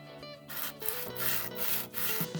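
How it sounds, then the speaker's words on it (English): A metal jewellery bezel being flat sanded on a flat surface: quiet, close, rhythmic rubbing strokes repeat about every half second, with no voices. "The next step is to flat sand the bottom of our bezel."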